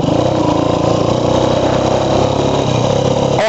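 A motorbike engine drones steadily and loudly while riding along a road at night, a constant close-up rumble with a brief thump near the end.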